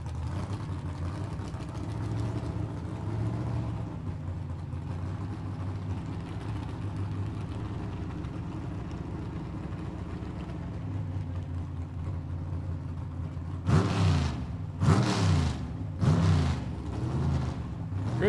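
A gasser drag car's inline engine idles with a low, steady rumble at a drag strip, then barks through several sharp, loud revs in quick succession as the carburetors are cleared.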